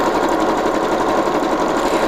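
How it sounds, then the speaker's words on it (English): A Janome or Baby Lock sewing machine running steadily while stitching decorative stitches, a loud, close, continuous mechanical whir with a fast, even rhythmic pulse and no talking. "I can keep throwing this decorative stitch one right after the other"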